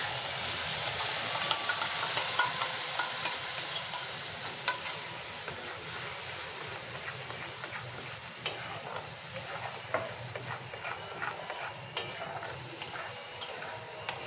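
Kashmiri chilli and spices for butter paneer sizzle steadily in a pan while a spoon stirs them, with occasional light taps and scrapes over the constant frying hiss.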